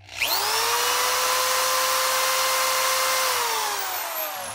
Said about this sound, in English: Okay, so I'm drilling 3 centimeters.